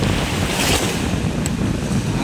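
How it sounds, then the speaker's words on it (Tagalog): Loud, steady roar of surf and gusting wind, waves crashing continuously with heavy wind buffeting close to the microphone. "Kita nyo malakas naman yung alon at saka hangin."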